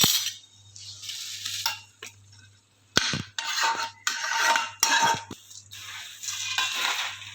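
Homemade Rajkot-style chavanu snack tossed with whole spices in a bowl gives close, fairly quiet bursts of dry rattling and clinking in uneven stretches, with no talking.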